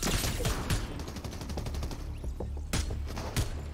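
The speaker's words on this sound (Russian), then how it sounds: "Еще кто-то по нему стреляет." Rapid bursts of gunfire in a Fortnite match, several volleys of shots crackling in quick succession against a dense, busy game soundscape, fairly loud and up close.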